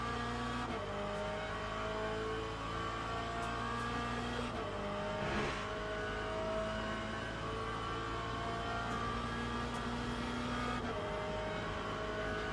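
A Corvette race car in Le Mans Ultimate roars at full throttle, engine droning steadily with gear changes shifting its pitch, heard close and continuous throughout.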